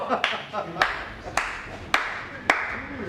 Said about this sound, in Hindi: अरे जीएम साहिबा की अवार्ड विनिंग परफॉर्मेंस के लिए जोरदार तालियां हो जाए